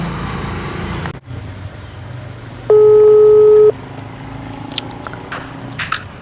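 A phone call is placed from a handset: a loud, steady electronic tone sounds for about a second after a brief gap, with faint background hum, light noise and a few short beeps.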